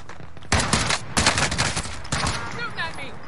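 Close automatic gunfire crackles in several rapid bursts, each sharp and loud, separated by brief pauses, with faint voices underneath toward the end.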